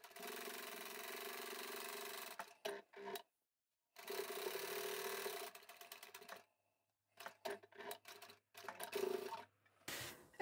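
A sewing machine stitches through a padded fabric jar opener, running in steady mechanical bursts of a second or two with short pauses between, close and fairly quiet.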